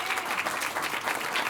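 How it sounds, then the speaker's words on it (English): Steady audience applause fills a hall at a Black History Month event on African Americans and the arts, dense, even clapping with no talk over it. "Give it a round of applause."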